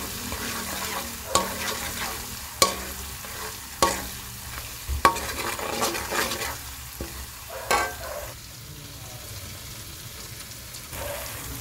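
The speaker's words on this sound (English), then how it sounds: "I'm going to allow the tomato paste to fry a bit" Tomato paste frying in a pot for spaghetti and meatballs, a steady close sizzle with scraping stirs and a few sharp spoon knocks against the pot, no talking.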